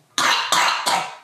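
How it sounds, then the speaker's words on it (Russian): A young girl gives three loud, close wet coughs in quick succession, each a chesty burst that fades before the next, with no talk. "Хороший кашель. Вологий."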